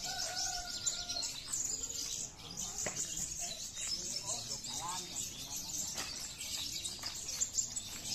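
Lovebirds sing in a bird-song competition, a dense, continuous stream of high chirps and trills from several birds, with faint crowd voices underneath.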